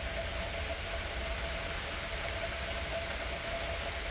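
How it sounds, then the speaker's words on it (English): A constant roar of heavy thunderstorm rainfall fills the air, even and unbroken, with a faint low rumble underneath. "Rain's pretty heavy so far."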